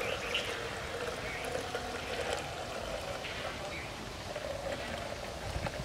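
Fresh date palm sap poured out of a collecting pot: a steady, continuous pouring rush lasting several seconds, with faint outdoor background.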